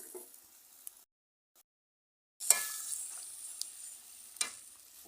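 Pipul greens go into a pan of soft cooked potato curry with a burst of sizzling and frying hiss after a short silence, followed by scraping stirs and crackles close by.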